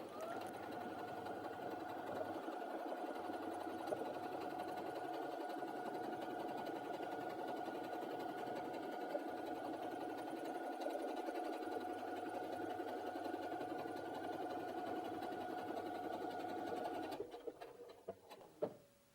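A Brother Innov-is F560 computerized sewing machine stitches a buttonhole with a steady, fast whirring hum for about seventeen seconds, then slows, clicks and stops as the cycle finishes; no one speaks.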